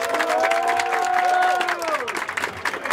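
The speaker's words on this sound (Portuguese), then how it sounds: "Família, por favor, palmas pra batalha aí, por gentileza." Audience applause at a Brazilian freestyle rap battle, a dense wash of clapping and crowd noise filling the space, with sustained tonal voices or cheers sliding over it.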